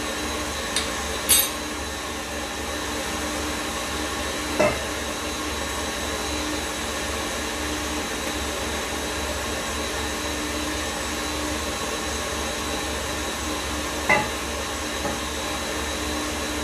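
Electric mixer whipping egg whites for Italian meringue, a steady continuous motor whine throughout with a few faint clicks and knocks.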